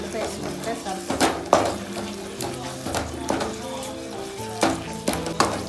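Tomato pachadi being stirred in a pan, soft scraping and clinking of a spoon against metal with occasional louder knocks, close by and mixed with a light sizzle.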